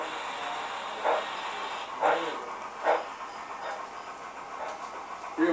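Model train passing through a layout rail yard, a soft hiss of running gear with a few rhythmic clicks and clunks spaced about a second apart, quiet and fairly close.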